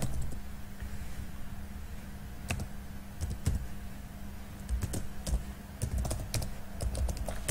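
Keys clack on a computer keyboard in irregular bursts while an email address is typed, some sharper taps standing out over a quiet steady background hum, close to the listener.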